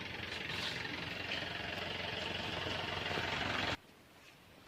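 A Star-brand arecanut dehusking machine, engine and motor operated, runs with a loud, steady mechanical roar for almost four seconds, then cuts off abruptly into near quiet.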